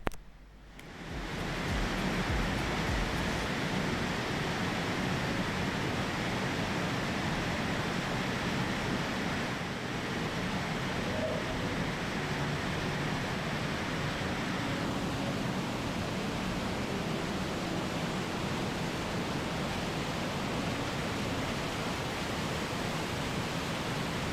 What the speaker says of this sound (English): At the top of the waterfall, I found a way to another small pond and another waterfall.